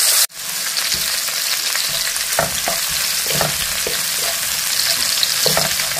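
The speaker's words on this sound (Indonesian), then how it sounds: "Lalu saya lanjutkan untuk menggoreng bahan sambalnya, seperti bawang merah," Steady, close sizzling of shallots and garlic frying in hot oil for sambal, with occasional soft stirring scrapes and pops throughout.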